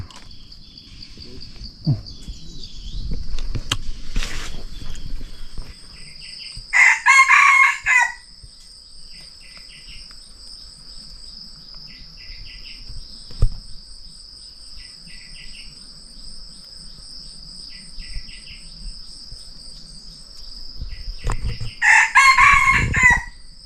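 Wild junglefowl crowing in a forest during a hunting outing, two loud calls a few seconds apart near the start and end, over a steady high-pitched chorus of crickets and insects, with faint rustling between.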